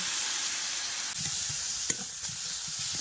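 Potatoes frying in a pan with salt, turmeric and chilli powder, a steady close hiss of sizzling oil with a few soft stirring scrapes and clicks.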